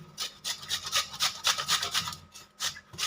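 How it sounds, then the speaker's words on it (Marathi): Peeled mangoes being grated on a large hand grater, a rapid series of rough rasping strokes in an uneven rhythm, close and fairly loud with short gaps between bursts. "आता बघा या किसणीच्या साह्याने मी सगळे किसून घेते आंबे"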